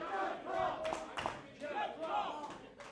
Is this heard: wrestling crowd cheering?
yes